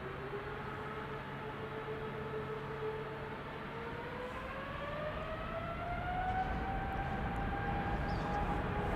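A KLM Boeing 777-300 departing Amsterdam Schiphol, a faint distant whine whose tones sweep slowly upward over a low steady rumble that swells gradually as the engines spool up.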